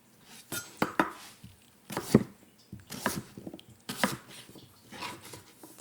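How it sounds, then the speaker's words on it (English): A knife chopping a sweet potato into roughly inch-sized chunks on a cutting board, with about eight separate sharp cuts at an uneven pace, close and fairly quiet. "We're just going to cut the sweet potato into some like 1-ish inch"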